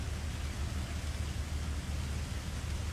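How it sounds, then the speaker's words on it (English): Steady rain falls in a dense, even hiss with no breaks, a soft continuous wash of drops at moderate loudness and nothing else heard. "Let the rain wash everything away."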